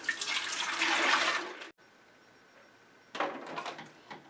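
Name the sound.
pouring ice cream custard into the ice cream maker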